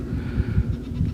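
Myotonic goats in a farm herd bleat close by, with several short, wavering calls overlapping over about a second against outdoor background noise.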